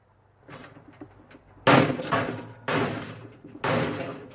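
A hammer strikes a scrapped metal barbecue in three heavy, clanging blows about a second apart, close and loud, each ringing and rattling as it decays, after a few lighter taps.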